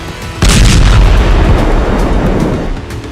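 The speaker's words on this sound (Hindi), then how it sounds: "और फिर कुछ सेकंड बाद हुआ दूसरा धमाका" A single loud explosion from a bombing in a southern Lebanese village bursts suddenly, then booms and rumbles heavily before slowly fading away.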